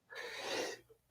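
A single sharp sneeze, close and fairly loud, lasting under a second at a football watch party for a Bills vs Ravens game.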